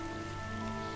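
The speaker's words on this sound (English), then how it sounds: "Well, I mean, it is raining" Steady rain falling in the Starbound video game, a continuous even patter held under sustained tonal hum, with no voices.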